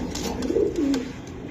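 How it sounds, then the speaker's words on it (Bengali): Yellow Gorra pigeons cooing in a breeding loft, a soft, low, rolling coo repeated through the moment, close and steady over a faint room hum, with no talk. "এটা আমার ব্রিডিং লফটের কবুতর"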